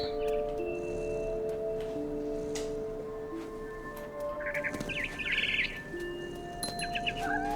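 Bright synthetic bird chirps and tweets from the video game What Remains of Edith Finch repeat over a soft ambient backdrop, with sustained tonal notes beneath and no voices.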